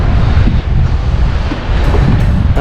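Ocean waves washing onto the shore at Bruny Island, Tasmania, heard as a loud, close roar with heavy wind buffeting the microphone and no voices.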